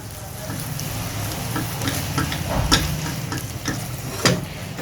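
Spicy chilli fries sizzle and fry steadily in a pan, a dense continuous crackle with occasional sharper stirring clicks and scrapes, close and moderately loud, with no talking.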